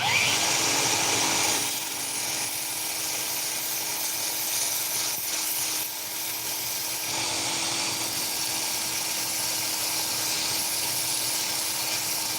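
A knife blade being ground on a coarse 60 or 80 grit grinding machine gives off a loud, steady whirring hiss that runs without a break and dips slightly in places.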